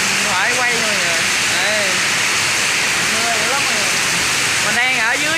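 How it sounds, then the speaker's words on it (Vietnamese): Heavy rain pours on a street in Saigon as a steady, dense hiss that fills the whole clip, with someone talking over it from under shelter. "Đó, mưa đã mọi người."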